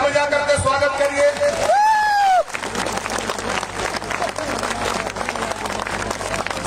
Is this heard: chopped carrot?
no